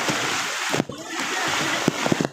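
Floodwater pours across a road during Typhoon Carina in Montalban, Rizal, a steady close rushing wash broken by brief splashes, with voices talking over it.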